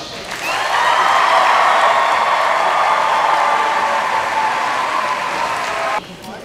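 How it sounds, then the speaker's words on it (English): An audience at an America's Got Talent taping applauds in a loud, dense burst of clapping that swells quickly, holds steady for about five seconds, then cuts off. "Big applause, folks."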